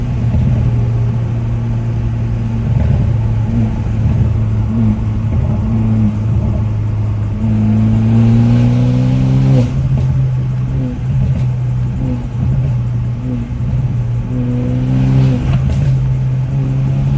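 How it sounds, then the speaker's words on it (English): BMW F30 with a stage 2+ tune revving hard under full throttle, a loud close engine drone that climbs in pitch in repeated pulls, heard from inside the car. "I'll just hit the gas real hard."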